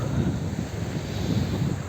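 Steady, blustery wind on the beach at Musalla, Çeşme, rumbling against the microphone, with a low broadband roar and no voices.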